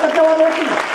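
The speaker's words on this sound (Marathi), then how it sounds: "ह्यांच्यासाठी टाळ्या वाजवा" A kirtan audience breaks into a short, dense burst of clapping that fills the space evenly, with a voice carrying over it.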